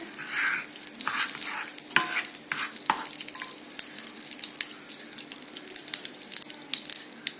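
Butter sizzling in a frying pan over low heat while stuffed fish is being prepared, crackling bursts and stirring scrapes that are loudest early, then settle into a lighter, uneven spatter with no talk.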